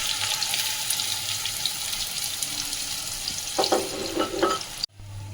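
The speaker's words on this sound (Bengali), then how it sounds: "আমি পেঁয়াজ ভাজার জন্য, বেরেস্তা করার জন্য আরও কিছুটা তেল দিয়েছি" Sliced onions sizzle and crackle in hot oil while being fried crisp for beresta in an egg biryani recipe, a steady close hiss with a few utensil stirring clatters before it cuts off abruptly.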